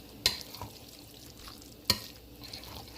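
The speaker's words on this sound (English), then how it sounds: "I'm just gonna add 1 tablespoon of my sour cream. And I'm just gonna mix it in again." A spoon stirring a tablespoon of sour cream into a cooked Jamaican-style dish in a pot, with quiet scraping and a couple of sharp clinks against the pan, soft and close with no talking.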